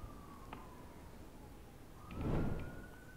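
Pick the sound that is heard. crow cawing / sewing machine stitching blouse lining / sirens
sirens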